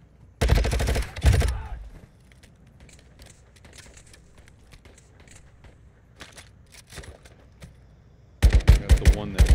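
Gunfire in MW2 DMZ: two loud automatic bursts at the start, sparse distant shots through a quieter middle with faint talk, then a heavy rapid burst of close fire at the end.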